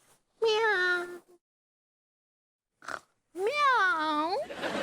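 A voice imitates a cat, giving two drawn-out meows separated by a pause, with a brief soft sound between them.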